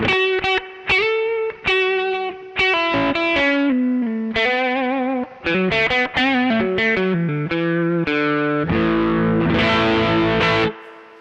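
A distorted Eastman SB59V electric guitar on the middle pickup position plays a run of sustained single notes and chords, close and loud, each note ringing briefly before the next, ending in a thicker strummed chord.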